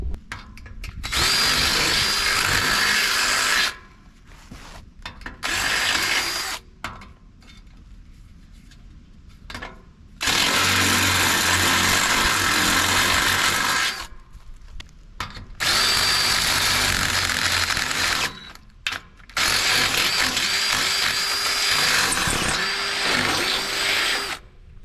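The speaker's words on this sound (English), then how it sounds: "I'm gonna have to take my drill bit and kind of split the difference between the two" A power drill bores mounting holes in an old boat trailer, loud whirring bursts of a few seconds each, four main runs separated by short pauses, close up with no talk.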